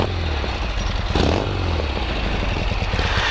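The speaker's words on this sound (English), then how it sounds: "I'm going to give a little bit of throttle. I'm going to kick on through." A 1972 Norton Commando motorcycle engine being kick-started and running, a loud, steady rumbling close by with a sharp surge and clatter about a second in, then holding a rough, continuous running note.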